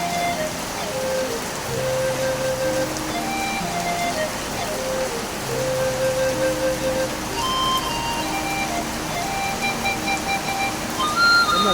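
Heavy rain falls steadily in a city centre, a dense, continuous hiss of drops on surfaces that stays loud and even throughout, with faint tonal sounds drifting in the background.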